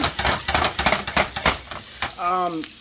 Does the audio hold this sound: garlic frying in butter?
yes